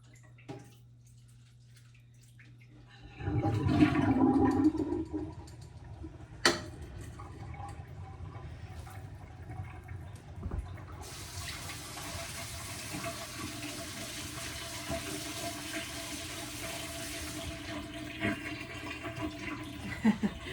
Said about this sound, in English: My sink full of water.